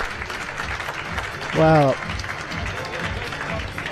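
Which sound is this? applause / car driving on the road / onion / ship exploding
applause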